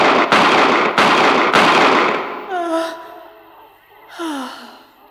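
Three sharp gunshots in a German radio drama, close and loud, each with a brief echo tail, followed by a woman's gasps and moans.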